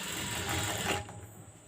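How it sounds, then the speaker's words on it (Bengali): A sewing machine stitching a folded fabric belt for a baby frock runs in a steady, close, loud whir for about a second, then slows and fades out. "মাঝখানে ভাঁজ করে এই মাথার থেকে সেলাই করে নিয়ে আসবো এরকমভাবে"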